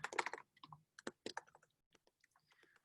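Keystrokes on a computer keyboard during an online workshop, a quick burst of clicks followed by scattered, softer taps, close and fairly quiet with no talking.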